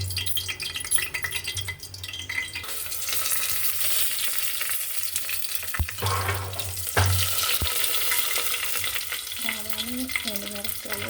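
Dry red chillies and cumin frying in hot oil for a tempering give a steady close sizzle, with stirring and a few sharp metal clinks from the pan.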